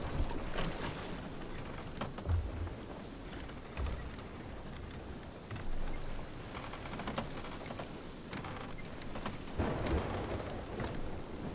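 A thunderstorm with rain at sea in the Sea of Thieves video game: steady rain hiss fills the scene, with several low thunder rumbles and cracks rising and falling throughout.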